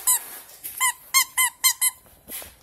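A plush spider toy gives a run of about seven short, high squeaks in an uneven rhythm, close and fairly loud, with brief quiet gaps and no talking.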